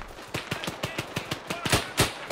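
Enemy rifle fire in an Arma 3 firefight crackles in a rapid irregular string of about a dozen sharp shots, moderately loud, with a few heavier bursts toward the end and no talking.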